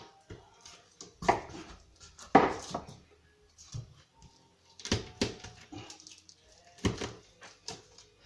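Knife chopping through the backbone of a pike fillet into thick steaks, giving several sharp, close cuts and thuds spread out with quiet gaps between them.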